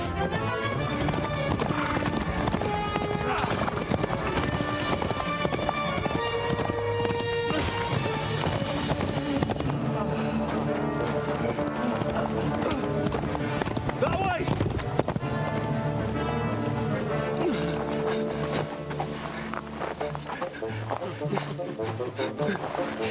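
A horse gallops in the medieval video game Kingdom Come Deliverance, its hooves clip-clopping in a fast, steady beat. The gallop plays under a loud music score with occasional neighs and crashes, and people speak throughout.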